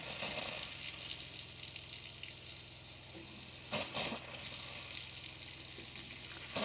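Water runs steadily from an opened RV faucet as the plumbing is flushed with antifreeze, a faint continuous hiss with a couple of louder gushing bursts and no talking.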